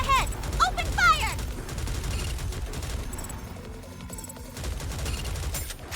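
Video game gunfire in NIKKE rattles as a continuous fusillade during a battle, dense and steady over several seconds, with synthetic whooping sound effects near the start.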